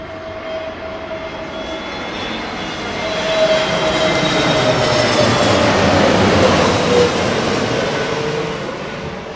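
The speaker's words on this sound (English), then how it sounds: "it is a first time for London Heathrow for the Beluga" An Airbus Beluga cargo aircraft arrives at London Heathrow in low-pressure conditions, its loud jet engine roar swelling steadily as it passes close by, with a rising whine and broadband rush.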